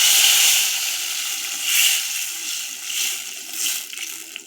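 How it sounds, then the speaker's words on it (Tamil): A steady hissing wash of tamarind water pouring and sloshing into a pan with curry leaves for garlic pickle, close by, swelling and easing in a few gentle surges. "போட்டுட்டு புளி தண்ணி ஊற்றிடலாம்."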